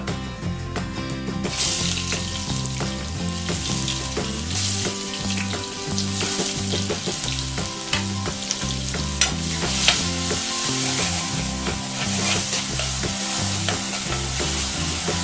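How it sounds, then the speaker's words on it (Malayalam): Crushed onion, ginger and garlic dropped into hot oil in a pan for a spicy red fish curry, a loud continuous sizzle with stirring scrapes throughout, close up and without speech. "എന്നിട്ട് നമ്മള് ചതച്ച് വെച്ചിരുന്ന ഉള്ളിയും ഇഞ്ചിയും വെളുത്തുള്ളിയും കൂടെ ചേർക്കുക."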